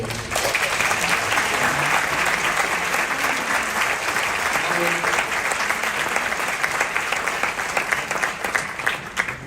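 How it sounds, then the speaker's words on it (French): A large theater audience at a film masterclass at the Grand Rex bursts into dense, sustained applause for a producer, a loud continuous wash of clapping with a few voices mixed in. "je crois qu'on peut l'applaudir"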